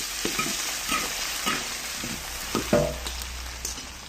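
Chinese cured sausage frying slowly over low heat in oil with chopped chili, producing a steady close-up sizzle broken by the scrapes and clacks of stirring.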